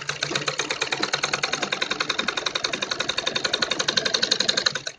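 A sewing machine runs a steady line of stitches through kurti fabric while a back zip is set in, a fast even needle rattle that holds close and constant throughout, with no talk over it.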